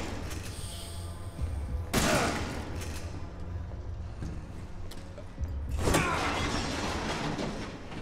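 Gunfire in the video game Resident Evil 7: Biohazard: two loud, sharp blasts a few seconds apart over a low, mechanical game backdrop.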